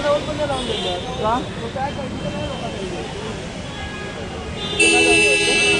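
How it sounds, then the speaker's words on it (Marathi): Busy Mumbai street noise during the Chintpokli Chintamani Ganesh arrival procession, with police vehicles: several short vehicle horn toots, then a louder sustained horn near the end, while people talk nearby. "पोलिसांच्या गाड्या प्लस ट्रॅफिक हॉर्न"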